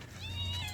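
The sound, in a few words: cat meowing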